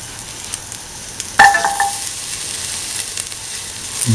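Garlic hits hot oil in a pan for an okra and winter melon coconut milk stew, giving a sudden bright sizzle that settles into a steady hiss with light stirring, close up with no voices.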